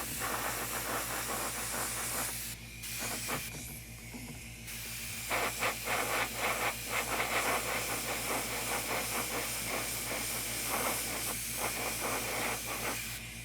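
Paint sprays onto a 1/4 scale Aquaman model figure, a steady close hiss running nearly continuously with a couple of brief pauses and a low mechanical hum beneath.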